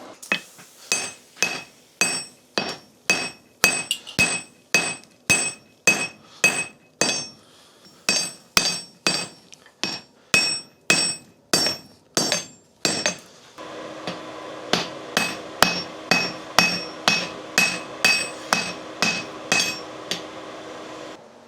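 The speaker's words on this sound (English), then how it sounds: "I got really hot steel. I gotta set you guys down and get this thing pounded out" Rapid, evenly spaced hammer blows ring out on hot steel being forged into an axe, dozens of sharp metallic strikes in a steady rhythm, close and loud, with a whirring hum joining later.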